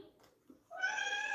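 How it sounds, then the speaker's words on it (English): A pet cat gives a single drawn-out, fairly loud meow close by, rising out of a quiet room after a few soft rustles. "This is my cat right here."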